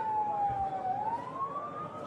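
An ambulance siren wails continuously near a hospital, a single sliding tone that dips and rises, fairly close and steady over low background rumble.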